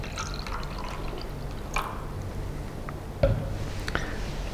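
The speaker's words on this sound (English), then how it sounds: "we can add at least 100ml of water to the beaker quite comfortably" Distilled water poured into a beaker gives a continuous gentle stream with small splashes and drips, then ends in a sharp clink of glass.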